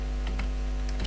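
Fingers type on a computer keyboard in quick, light clicks, a few close keystrokes in a short burst over a steady electrical hum, with no voice.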